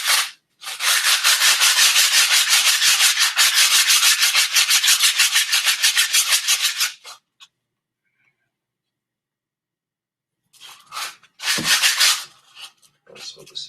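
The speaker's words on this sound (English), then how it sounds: "because it's so dry, it makes it easier to sand" Dry carved wood being sanded by hand with steady, rapid rubbing strokes for about seven seconds, then a pause and a few shorter bursts of scraping near the end, close and fairly loud.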